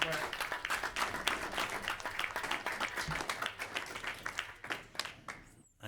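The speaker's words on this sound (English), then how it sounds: "I think the first of many rounds of applause to come" Scattered, fairly close clapping from a small room of attendees at a town council meeting, uneven and sustained for several seconds before tapering off abruptly.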